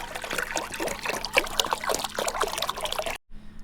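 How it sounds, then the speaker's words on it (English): Water poured from a container into a Dutch oven over soaked beans at a campfire, a steady close trickling and splashing stream running for about three seconds before stopping abruptly. "I'm going to add a fair amount of water to cover them so we can boil them"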